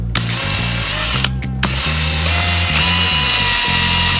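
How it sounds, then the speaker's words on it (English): A power drill drills a guide hole while building a wedge for a beetleweight combat robot, whirring steadily and loudly, its motor pitch stepping up and down as the trigger is eased, with a couple of brief pauses. "let's go ahead and drill this guide hole out."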